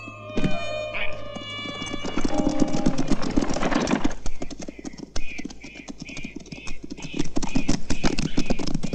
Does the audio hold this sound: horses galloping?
yes